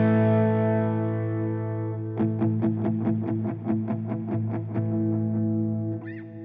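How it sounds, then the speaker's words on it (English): Electric guitar through overdrive pedals at the lowest gain stage, a sustained chord ringing before a run of about a dozen quick, even strums, then a decaying tail, played alone. "I'm going to kick off some overdrives here. I'm probably only going to have my lowest gain stage here on."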